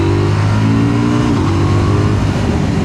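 A 2026 KTM 990 Duke motorcycle engine pulls hard and close, a loud, steady roar whose pitch sags slightly midway through.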